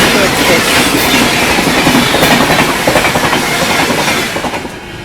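The Bhubaneswar Duronto Express rushes past at Prayagraj, a loud close roar of rolling wagons with rhythmic wheel clatter over the rails, fading slightly at the end.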